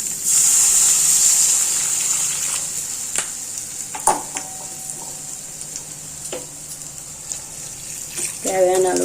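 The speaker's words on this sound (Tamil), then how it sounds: "அதில் தண்ணி ஊற்றிட்டு" Water pours and gushes into a pan of tomato chilli masala, starting with a loud hiss and sizzle that settles into softer bubbling, with scattered clinks and stirring knocks and a brief voice toward the end.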